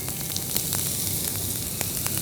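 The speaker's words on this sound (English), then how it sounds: "I'm just going to add the chopped onions into it." Chopped onions sizzling in hot oil in a pan, a steady close crackling hiss with small popping bursts throughout.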